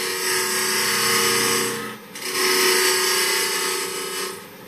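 Hand saw cutting away the back of a wooden tenon during a threading-jig demonstration, a steady close rasping stroke that runs loud and continuous, dips briefly in the middle, then resumes.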